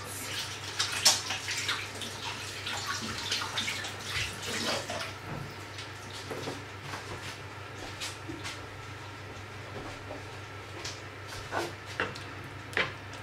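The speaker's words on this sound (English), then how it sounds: "Just wash my hands." Tap water runs steadily as hands are washed at a kitchen sink, a soft continuous splashing with faint clinks and a low hum beneath, no talking.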